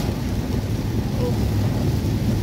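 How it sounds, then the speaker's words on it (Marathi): Heavy monsoon rain in the Konkan countryside, a dense, steady roar with strong low rumble and buffeting, constant and loud throughout. "निसर्ग सौंदर्याने भरलेला कोकण आणि कोकणामध्ये हा जोराचा पाऊस आलेला आहे"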